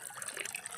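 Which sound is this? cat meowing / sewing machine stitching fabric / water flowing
water flowing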